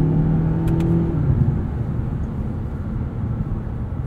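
A turbocharged 2020 Mazda 6 Signature sedan in sport mode with manual shifting runs along a backroad, its engine droning loud and steady with a tone that falls early on, under a constant whir of road noise.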